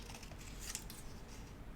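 A single quick snip of scissors cutting paper, quiet against a faint background hiss.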